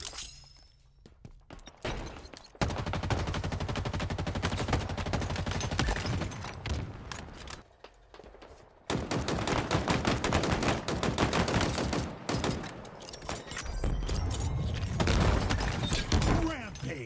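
Sustained automatic weapon fire in Halo Infinite on a Forge map, long dense bursts of rapid shots close up, broken by brief pauses and mixed with impacts and game sounds.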